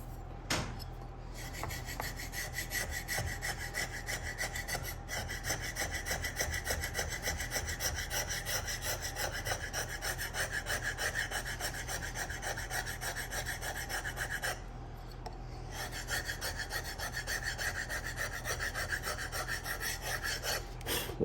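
Old varnish scraped off the wooden stock of a Winchester Model 60A rifle with a hand scraper, a steady run of close rasping strokes that continues with two brief pauses.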